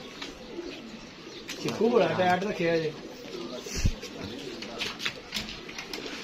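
Indian Surkha pigeons cooing in a room set up as a loft, a rising rolling coo up close followed by quieter calls, with someone speaking briefly over them.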